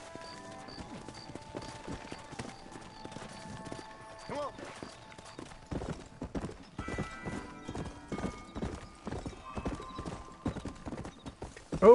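Galloping horse hooves pound at a quickening pace in the Red Dead Redemption video game, close and growing louder, over background game music with occasional neighing.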